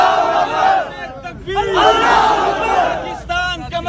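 A large crowd at an Islamabad mosque gathering roars a religious takbir slogan in unison, loud, massed voices rising in repeated surges of chanting close by.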